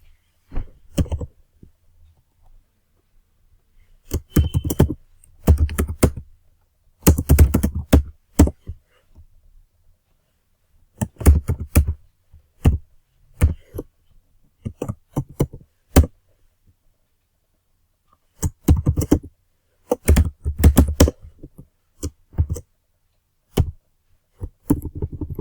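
Computer keyboard typing while coding an Angular project, heard as loud clustered bursts of clicky keystrokes separated by brief pauses, with no talking.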